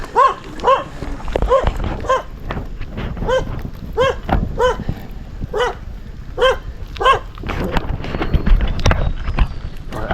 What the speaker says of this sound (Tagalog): tumatahol siya sa akin